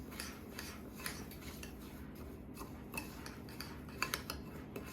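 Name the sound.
stirring gluten-free breadcrumbs into melted butter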